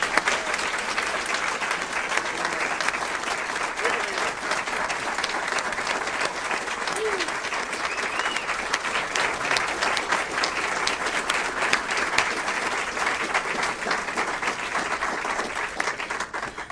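Sustained applause from a large audience at the Defense Information School Hall of Fame ceremony, a steady, even roar of many hands clapping that continues for the full stretch without talk.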